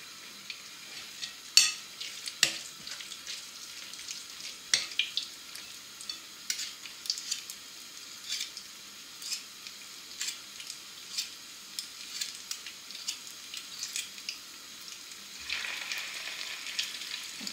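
Homemade beignets frying in a pan of hot oil, a steady soft sizzle and bubbling running throughout, with occasional clicks and taps of utensils, close and fairly quiet, no talking.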